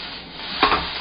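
Cooked pork being stir-fried in a wok for Chinese gochu japchae, a brief scrape and sizzle burst in the middle of a quiet stretch.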